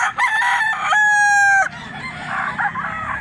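A hatch black stag, a young rooster, crows once loudly and close by. The crow is a strained, rising call that lasts under two seconds and is followed by low background noise.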